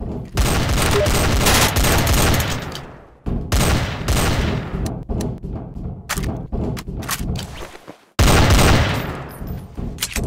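Rapid bursts of gunfire in Trouble in Terrorist Town crackle in dense, loud volleys, broken by brief pauses and scattered single shots, with a final heavy barrage.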